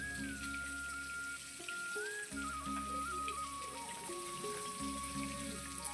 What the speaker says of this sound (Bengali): মাছগুলো ভালো করে এপিট ওপিট করে কড়া করে ভেজে নিতে হবে।